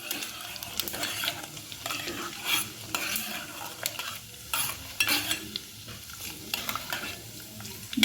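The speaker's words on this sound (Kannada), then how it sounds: "ಈಗ ಸಾಸಿವೆ, ಜೀರಿಗೆ, ಮೆಂತ್ಯ, ಮೆಣಸು ಇದನ್ನು ಒಗ್ಗರಣೆಗೆ ಹಾಕ್ಕೊತಾ ಇದ್ದೀನಿ" Mustard seeds, cumin, fenugreek and pepper crackle and sizzle in hot tempering oil, a busy spattering hiss with bursts of popping and a few scrapes of a spoon, close and fairly loud.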